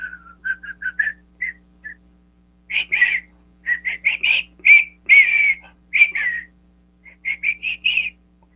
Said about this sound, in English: that's from the Breakfast Club. Can you guys do that whistle with me?